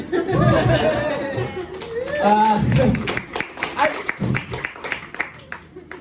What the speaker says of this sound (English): You guys are clapping like a some form of accomplishment.